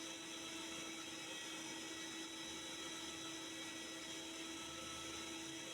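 Mixer grinder whirring steadily while grinding oranges for juice, a constant loud motor whine with no breaks and no talk.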